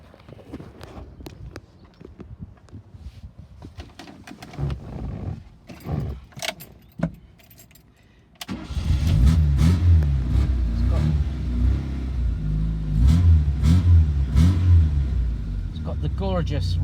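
A 1974 Fiat 128 SL coupe, concours-restored, is started: quieter handling noises and clicks first, then the engine catches and settles into a loud, steady raspy idle with occasional blips of revving.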